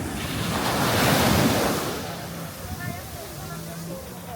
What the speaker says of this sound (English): You can just hear the waves,